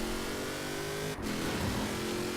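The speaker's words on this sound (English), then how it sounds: "let's go ahead and do a drag race" Apollo car with a V8 engine accelerating hard in a Forza Horizon 4 drag race, a loud, close, steady roar that breaks briefly at a gear shift before climbing again.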